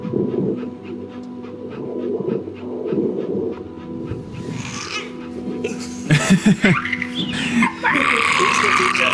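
A dog panting in the video game That Dragon, Cancer, rapid rhythmic breaths running through the first half amid ambient game sounds, with brief voice-like sounds and a brighter burst later.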